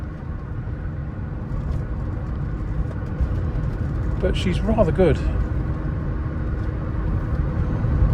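A 1991 Saab 900 Carlsson on the move hums with a steady low engine and road rumble inside the cabin, constant throughout while someone talks over it.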